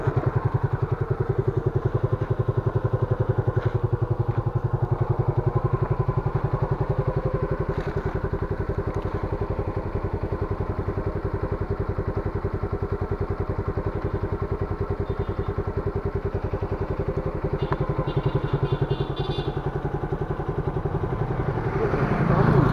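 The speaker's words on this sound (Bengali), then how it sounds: "বাইকটার সাউন্ডটা আপনাদের একটু শোনাবো, তাহলে চলেন একটু শোনা যাক" A 2021 Suzuki Gixxer 155 carburetor motorcycle runs at a steady idle, its engine note loud and close with a continuous thumping rumble that holds evenly from start to finish.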